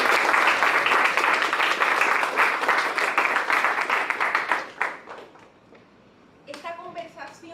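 An audience at a university autonomy forum claps loudly and densely for several seconds. The applause then thins to scattered claps, fades into near quiet, and a few claps return at the end.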